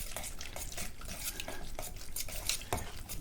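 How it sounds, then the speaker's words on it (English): A whisk stirs salt, black pepper and spices into a sauce, giving a steady run of soft scraping strokes with light metallic clinks against the bowl, close by and moderately quiet, with no talking. "So we will take our whisk"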